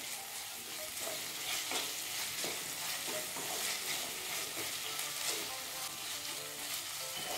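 Fried vegetables are stirred with two spoonfuls of Schezwan chutney in a pan for veg fried rice, giving a steady sizzle with repeated scraping and clinking of a spoon against the pan throughout.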